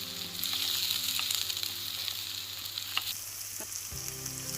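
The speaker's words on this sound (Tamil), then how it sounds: "இது கொஞ்சம் வதங்கட்டணும்." Small onions sautéing in a pan for a crab gravy, sizzling steadily and close, with a few soft stirring clinks and a low background hum.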